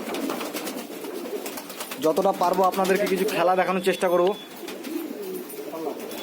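Giribaz fancy pigeons coo in a repeated, rolling burst partway through, loud and close, with someone talking over them in a backyard loft setting.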